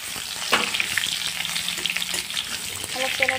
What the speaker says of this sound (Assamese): তেল গৰম হৈ গ'ল, তেলত দি আছোঁ আলুকেইটা।